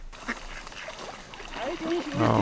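Ducks quack near swans at a feeding spot, a few short nasal calls rising out of a busy outdoor background, growing louder at the end.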